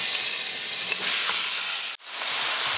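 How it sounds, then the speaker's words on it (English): Ground lamb sizzles loudly in hot oil in a pot, a bright continuous crackling hiss that briefly drops out for an instant before resuming. "Now I'll add the ground meat, and we're using lamb today"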